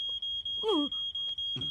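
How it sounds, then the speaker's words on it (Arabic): Smoke alarm beeping in a rapid, evenly spaced series of short high tones, running steadily beneath brief animated cartoon sounds. "هذا صوت إنذار حريق"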